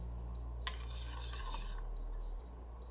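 A spoon stirs bread crumbs into a caramel bread pudding batter in a bowl, making faint scraping and a few light clinks over a quiet low hum.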